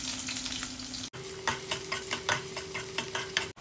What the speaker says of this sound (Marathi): त्यानंतर याच्यात कांदा टाकते.